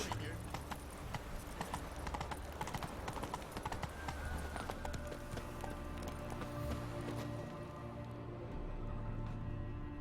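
Roach the horse gallops in The Witcher 3, a steady rapid clip-clop of hooves running throughout, mixed with game ambience and a voice talking over it.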